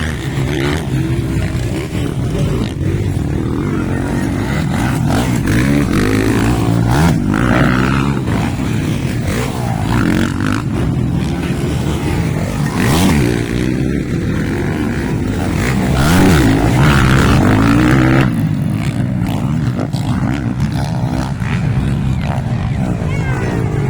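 Loud motorcycle engines roar and rev continuously during a race, rising and falling as bikes pass, with an excited commentator talking over them in Filipino.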